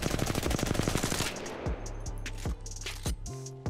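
Rapid automatic fire from the R301 rifle in Apex Legends, a loud, steady stream of close shots at first, then breaking into short bursts separated by brief pauses.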